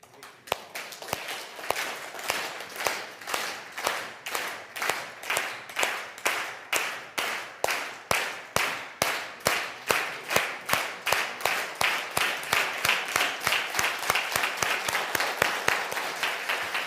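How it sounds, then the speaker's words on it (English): An audience at a leadership camp claps in unison, sharp regular beats starting slow and speeding up into a faster steady rhythm, fairly close and unaccompanied by talk. "Can you clap?"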